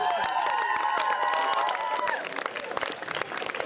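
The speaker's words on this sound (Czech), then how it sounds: "Děkujeme Mařence, zaslouží si veliký potlesk" Applause and cheering from an audience at a village feast in Ořechov, dense clapping mixed with whistles and voices, loud at first and thinning toward the end.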